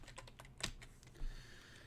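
Quick keystrokes on a computer keyboard while a file name is typed in, a short burst of close, crisp clicks with one sharper tap partway through.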